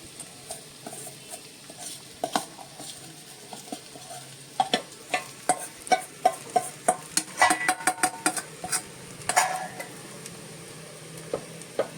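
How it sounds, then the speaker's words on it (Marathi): A spoon stirs sabudana khichdi mixture with potatoes in a pan, scraping and clinking in repeated sharp strokes over a soft sizzle, growing busier and louder midway. "व्यवस्थित ढवळून घेणार आहोत."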